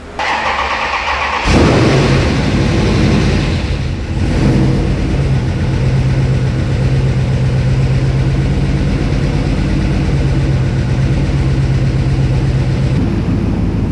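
A Dodge Ram 1500 truck with a swapped Hemi V8 cranks and catches, then settles into a steady, loud idle with a deep rumble that continues to the end.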